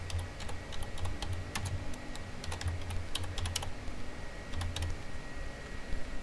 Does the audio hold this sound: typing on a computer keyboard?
yes